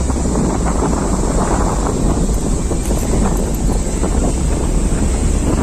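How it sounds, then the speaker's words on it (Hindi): A loud, continuous roar of rushing water at Bargi Dam near Jabalpur, with heavy wind buffeting the microphone and no voices. "यहाँ पे इतनी आवाज़ आ रही है इस वाटर की कि हम आपस में एक दूसरे से बात भी नहीं कर सकते"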